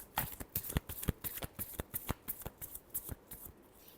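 Tarot deck being shuffled by hand, a quick run of crisp, rhythmic card riffles and slaps, close and fairly quiet, with no talk.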